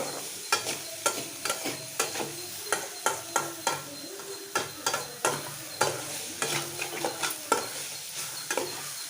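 Vegetables are stirred with vinegar and tomato ketchup in a hot pan, giving a steady sizzle broken by regular scraping strokes of a spoon against the pan, close up and with no talking.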